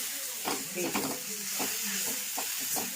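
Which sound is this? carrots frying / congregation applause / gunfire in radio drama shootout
carrots frying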